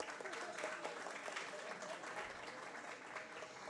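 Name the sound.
applause for Carlo Barbieri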